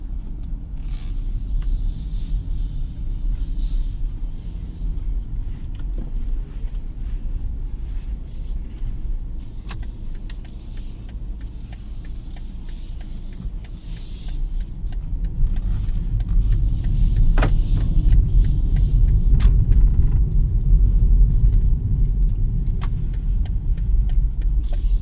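Cabin of a 2024 BMW 318i Business under way, a low steady rumble of engine and road that swells somewhat louder partway through, with faint clicks and no talk.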